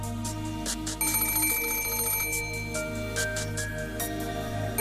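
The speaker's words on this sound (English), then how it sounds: "Hey, an old-timey phone." An old-fashioned telephone bell rings in the Umineko visual novel, a steady repeating trill over a layer of background music, with no talking.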